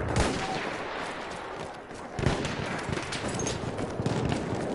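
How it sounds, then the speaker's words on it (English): Gunfire in a multiplayer war video game, with dense, continuous bursts of shots and distant battle noise filling the whole stretch, loud and steady with no talk over it. "there's like a lot of gunfire around me"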